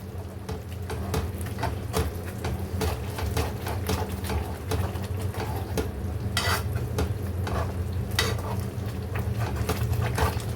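Kesari sweet is mashed and stirred in a pan, giving a close run of rhythmic scraping and soft thudding strokes over a low sizzling background, with no talking.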